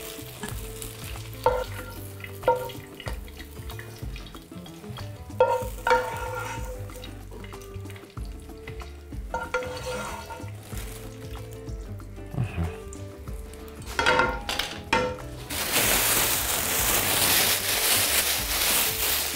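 Flour-coated beef liver fries in seasoned oil in a pan, with a steady sizzle broken by repeated clattering as the pan is shaken, and the frying hiss swells louder toward the end.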